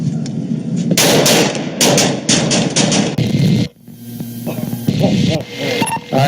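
Gunshots ring out during a police standoff with a man holding a rifle. Several loud, sharp reports come close together in bursts, followed by a brief drop to quiet and then more noisy activity.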